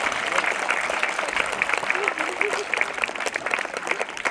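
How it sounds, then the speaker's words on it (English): A crowd applauds outdoors at a school fun run and wellness fair, dense sustained clapping with a faint voice briefly audible underneath. "Let's have a nice round of applause for the staff members at both schools"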